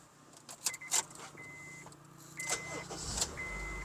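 A Honda Civic engine starts after a few short electronic chimes and light clicks inside the car, ending in a low, steady rumble close by.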